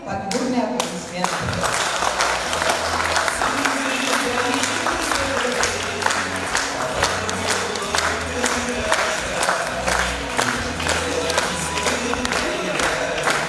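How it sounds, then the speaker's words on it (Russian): Loud, sustained applause from a festival crowd as flags are carried out, mixed with rhythmic music and drumbeats, with voices and scattered shouts heard through the clapping. "Мы провожаем флаги под бурные аплодисменты."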